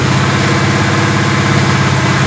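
A Big Red engine being checked before a rebuild idles loudly and steadily at close range, giving a continuous throbbing rumble with an even pulse and no change in speed and no voices.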